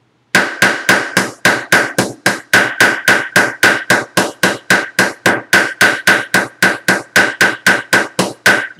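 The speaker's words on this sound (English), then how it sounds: "I'll take my ball peen hammer, and I'm just going to start flattening it out." A ball peen hammer flattens a rivet post over a washer on an overnight bag, about thirty loud, sharp metallic blows in a fast, steady rhythm, each ringing briefly, alone without speech.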